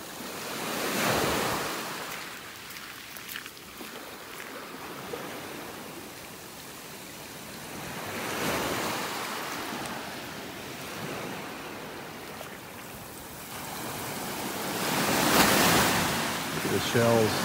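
Ocean waves break on a beach in North Naples, Florida, rolling in as repeated soft surges of surf with steady wind rush between them, heard from up close on the shore.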